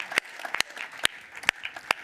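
A live audience at a French stage show applauds local mayors and officials, a dense, continuous clapping crowd with a few sharper individual claps standing out close by.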